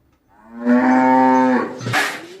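A Sahiwal and Friesian cross cow on a farm in Thakurgaon gives a single long, loud, close moo that holds steady, then breaks off into a short snort.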